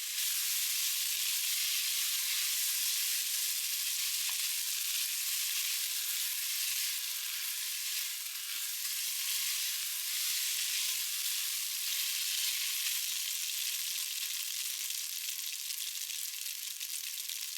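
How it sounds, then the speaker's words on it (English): Spaghetti being mixed with oil and spices in a Tefal Cook4Me pot, a steady bright sizzling hiss throughout with faint stirring touches, close and even with no talking. "Mix everything together until the spaghetti is evenly coated with the oil and spices."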